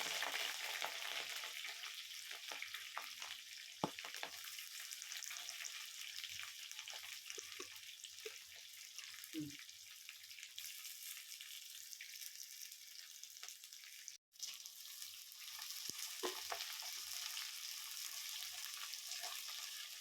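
Onions sautéing in a pan with curry leaves and green chilies, a steady close sizzle and crackle of frying oil running throughout, with occasional soft stirring scrapes and one sharp knock partway through.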